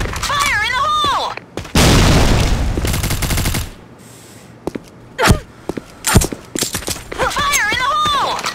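A grenade explodes in the Sudden Attack online shooter, a loud broad blast lasting about two seconds amid scattered gunshots, sharp impacts and footsteps, with radio-style voice callouts before and after.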